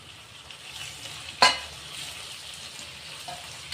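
Chopped tomatoes and onions fry in a pan for onion palya, giving a low steady sizzle, with one sharp clack of a spoon against the pan partway through and faint stirring scrapes.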